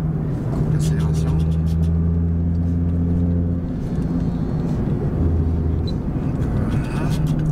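Nissan GT-R R35 tuned to stage 4 with about 650 hp accelerating hard, a loud, steady low engine drone with rising harmonic tones filling the cabin, with a voice speaking over it.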